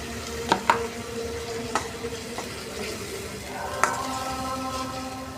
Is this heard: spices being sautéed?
yes